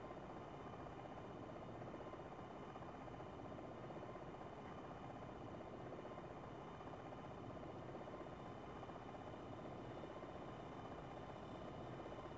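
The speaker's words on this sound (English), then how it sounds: "Enemy choppers, 4 o'clock." Enemy attack helicopters in the combat flight game Longbow 2, their steady rotor drone and engine buzz holding continuously and fairly quietly throughout with no talk.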